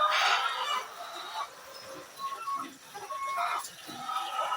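Layer hens on a small farm cluck and squawk nearby, a busy, irregular chorus of bird calls with a few louder outbursts and no one speaking.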